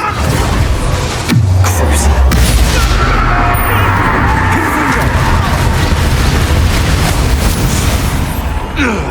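A Bombarda blasting spell goes off in the video game Hogwarts Legacy, a dense, loud booming burst with crashing debris that fills the scene under a steady roar of game noise.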